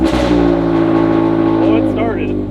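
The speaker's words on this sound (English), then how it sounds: "we're gonna try to start the car" A Toyota GR86 engine with a newly installed flex fuel kit, revving briefly and running loud and close with a steady droning tone before tapering off, with people talking over it.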